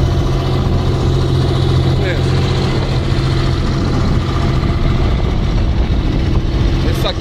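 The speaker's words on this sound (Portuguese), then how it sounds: "O barulho do barco, do motor." A boat motor drones loudly and steadily while heading out to open sea, a constant low rumble with wind and water noise.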